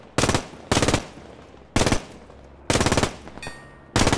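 A German machine gun fires in the video game Post Scriptum: five sharp, loud bursts of rapid automatic fire separated by short pauses, with no talking.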